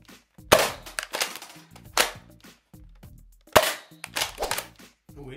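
Nerf blaster firing foam Rival rounds at an electronic pop-up target, sharp loud snapping shots at irregular intervals, each followed by a short clattering impact close by.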